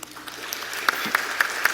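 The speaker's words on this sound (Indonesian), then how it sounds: "Mana yang tepuk tangan cuman sedikit?" Scattered clapping from an audience at a fiery Indonesian political speech by Megawati, a thin patter with a few sharper, louder claps standing out near the end, rather sparse and not a full ovation.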